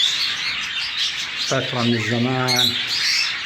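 Cockatiels and budgies in a bird room chirp and squawk continuously as a dense background, while someone speaks over them for part of the time.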